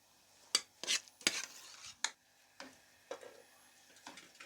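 A spoon stirs boiled vermicelli into milk in a pot over a medium flame, giving several sharp metallic scrapes and clinks in an uneven rhythm, then softer, fainter taps, with no talking.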